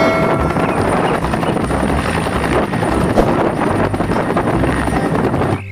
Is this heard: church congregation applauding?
no